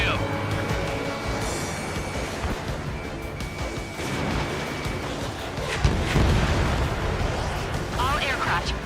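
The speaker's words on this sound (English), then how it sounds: "Stage 1 launching missile." Missile launch and explosions in the Ace Combat 7 jet combat game: a continuous roaring rumble of engines and weapons, with heavier blasts and crackling bursts swelling near the end.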